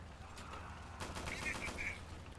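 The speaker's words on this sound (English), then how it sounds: "it's a slower firing machine gun." Slower-firing machine gun bursts from a French WWII tank in Easy Red 2, sounding as a muffled distant rattle of shots over a low rumble, with a brief higher whistle near the end.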